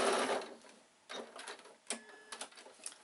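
A sewing machine stitches a bag seam up to the top and back-tacks, heard as quiet, short bursts of ticking needle motion with pauses between them.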